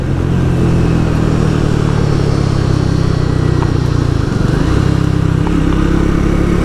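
A 2024 Triumph Speed 400 motorcycle accelerating to overtake on the road, a loud steady engine drone with wind rush and a brief shift in tone partway through, heard from the rider's position.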